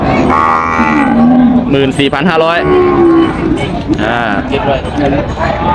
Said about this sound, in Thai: ฝั่งนี้เป็นวัวสาวนะครับ